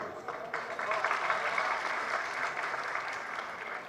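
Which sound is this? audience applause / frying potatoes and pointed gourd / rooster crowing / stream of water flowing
audience applause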